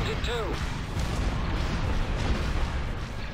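Space battle in a Star Wars strategy game: steady barrage of cannon fire and rumbling explosions, dense and continuous, with a brief synthetic whine near the start.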